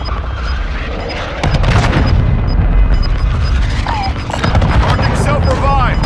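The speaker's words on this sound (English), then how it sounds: "Found a mortar strike." Mortar strike explosions in Warzone 2 land in two heavy, rumbling booms a few seconds apart, loud and close amid constant battle noise, with voices talking over them.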